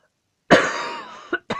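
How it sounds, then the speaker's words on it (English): A single harsh, drawn-out cough bursts from silence, followed by two short, sharp coughs close to the microphone. "So you're going to hear a lot of coughing."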